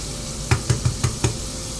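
An egg meets hot oil and butter in a frying pan, giving a low steady sizzle, with five soft clicking knocks spaced evenly across it.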